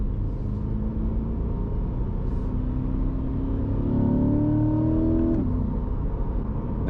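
Chevrolet Corvette C8 accelerating with manual shifting, a loud steady engine rumble heard from inside the car, with engine pitch rising through a gear before dropping at the shift.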